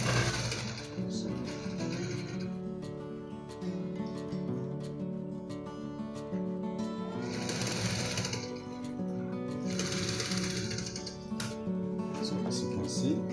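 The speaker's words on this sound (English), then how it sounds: "I will be sewing this part double." Sewing machine stitching a shirt facing in bursts, its fast mechanical whir starting and stopping several times over a steady hum, close and fairly quiet.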